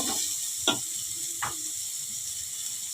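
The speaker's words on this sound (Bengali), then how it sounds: "এখন আমি দিয়ে দিব গাজর কুচি একটু নাড়াচাড়া করে নিব" Chopped carrot frying in a pan, stirred now and then: a constant soft sizzle with two distinct scrapes of a spoon against the pan.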